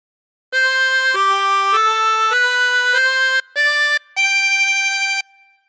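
A 16-hole tremolo harmonica plays a phrase of God Defend New Zealand, a series of sustained, reedy, wavering notes stepping up and down with two short breaks, loud and close, ending in a faint trailing tone.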